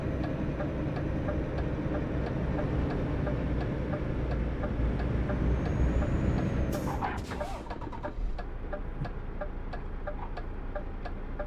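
A truck hauling a lowbed trailer in Euro Truck Simulator 2 brakes suddenly: a loud, steady engine drone ends in an abrupt burst of hissing, then the engine quiets while a regular ticking continues.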